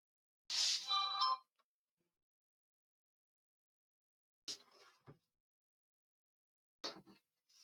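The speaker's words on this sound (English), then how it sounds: "My phone just went off." A mobile phone sounds an emergency alert: a brief loud electronic tone burst, then two shorter chirps a few seconds apart, in an otherwise quiet room.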